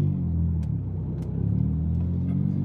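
Ford Mondeo MK3 engine accelerating at an intersection, a deep steady close rumble that swells slightly toward the end, with faint clicks inside the cabin.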